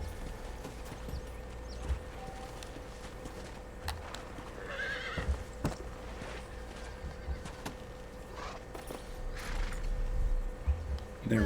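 A horse whinnies and its hooves clip-clop in the Western video game Red Dead Redemption at a ranch house, the neigh standing out mid-clip over steady game ambience and low rumble.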